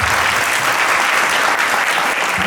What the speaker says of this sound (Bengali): আমি চাবো এদের জন্য একটা করতালি হয়ে যাবে।